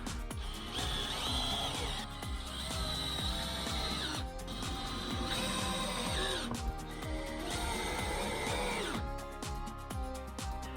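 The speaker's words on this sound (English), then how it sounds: "go ahead and use the rest of your 1 1/4 inch screws to screw the rest of the planks into this backing" A power drill drives 1 1/4 inch screws into wooden planks on a backing board in a series of repeated whirring bursts separated by short pauses, close and fairly quiet.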